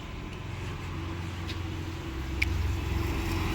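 Idling and pulling bus engines at the Kukke Subramanya bus stand, a steady low rumble with an engine swelling louder partway through, nearby traffic, no talk.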